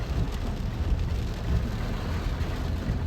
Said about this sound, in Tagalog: Grabe ang ulan, malakas pati.